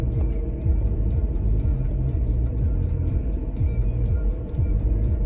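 Road traffic heard from inside a car driving near Broadway and Cambie Street toward downtown Vancouver: a steady low engine and road rumble with passing vehicles, continuous and fairly loud.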